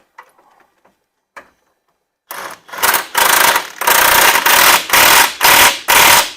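An impact wrench fires a series of loud, close ugga-dugga bursts, about six hammering rattles in quick succession after a short quiet stretch with faint voices at the start.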